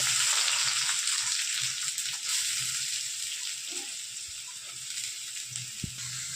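Steady sizzling of onions frying in hot oil, a continuous bright crackle with faint stirring clicks underneath, close and fairly loud throughout.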